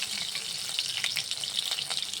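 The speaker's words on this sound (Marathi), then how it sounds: "त्याच्यामध्ये हिरव्या मिरचीचे तुकडे घालूयात. फोडणीमध्ये ते छान तळले जातात." Green chili pieces frying in a mustard and cumin tempering give a soft, steady sizzle close by, with faint crackles and no voices.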